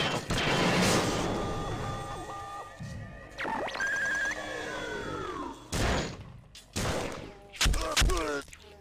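Gunfire in the video game System Shock 2 comes as a few sharp, loud shots and crashing impacts, separated by electronic game tones and some quieter stretches.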